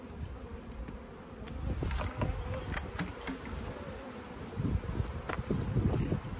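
A honeybee colony hums in a steady, dense buzz close by as the hive is worked, with individual bees droning past now and then and light wind noise underneath.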